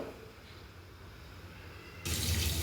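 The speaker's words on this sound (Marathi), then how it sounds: "चाळणीमध्ये आपल्याला जे जो भात केलेला आहे तो टाकून घ्यायचा आहे" Boiled rice and water for veg biryani pour into a strainer: after two quiet seconds, a sudden loud gushing splash starts close by and continues to the end.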